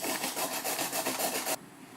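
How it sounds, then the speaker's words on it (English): Carrots rubbed against a hand grater for a cucumber rice salad, a steady rhythmic rasping of quick strokes close by that stops abruptly after about a second and a half. "I've grated my carrots."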